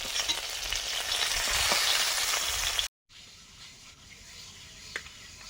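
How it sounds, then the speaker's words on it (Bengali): Fish frying in oil in a pan, a dense steady sizzle for about three seconds that cuts off abruptly, followed by quieter kitchen noise with a faint sputter. "টকের মাছটা ভাজা হয়ে গেছে, তুলে নিচ্ছি।"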